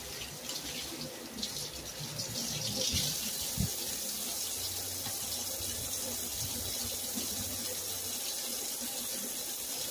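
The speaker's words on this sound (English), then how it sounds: "I have to wipe it, rinse my rag, and wipe it." A rag is rinsed under a running faucet, producing a steady hiss of flowing water with soft splashing and a faint clatter, continuous and fairly close throughout.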